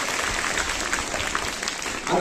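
A children's audience applauds in a dense, even burst of many hands, with murmuring voices mixed in throughout.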